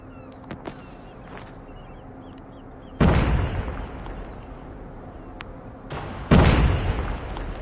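Two frag grenade blasts in COD Mobile gameplay, a few seconds apart. Each is a sudden loud boom that fades into a rumbling tail, over a quiet background with small clicks.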